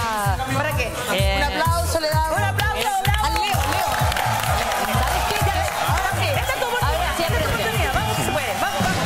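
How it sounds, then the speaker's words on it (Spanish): An audience at a men's underwear fashion show claps and cheers for a model named Leo, with steady rhythmic clapping, whoops and loud crowd noise mixed with voices talking over it. "Un aplauso le damos. Un aplauso al Leo."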